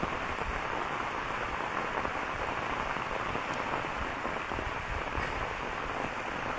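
Rain pours onto a village dirt path beside a bamboo grove, a constant close hiss of drops that stays even throughout, with no voices.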